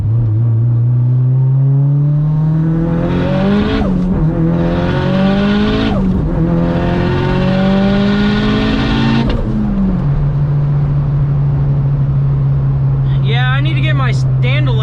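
A 600hp Mitsubishi Evo 9 accelerates hard, its engine note climbing through the revs and repeatedly stuttering as it hits boost cut, then settling into a steady drone, loud and close from inside the car.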